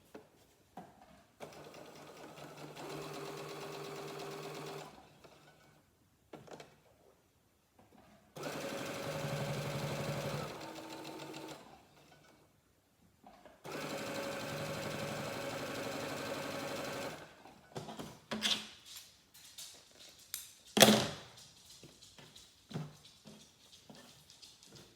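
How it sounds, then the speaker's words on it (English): Sewing machine stitching quilt pieces for an octagon layer cake quilt, running in three long steady bursts with short pauses between, followed by scattered clicks, handling noises and one sharp knock. "So we are already on the sewing machine, so let's sew."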